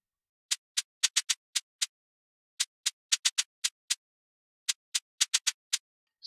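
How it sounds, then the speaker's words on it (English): A programmed shaker part in an FL Studio beat for an Afrobeats track plays short, crisp, hissy ticks in a syncopated pattern over clean silence, repeating in groups with no other instruments. "Let me show you what the second shakers was playing."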